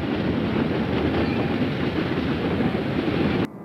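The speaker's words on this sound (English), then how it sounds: "Train 8, an afternoon run from Pottsville, passes Beltline Junction." A Reading Company afternoon passenger run from Pottsville rumbles past Beltline Junction, a loud, close, continuous roar of wheels and cars with some wind buffeting, cutting off abruptly near the end.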